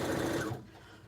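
A sewing machine stitches a pineapple quilt block in a short, loud, steady whir that cuts off about halfway, leaving quiet room tone.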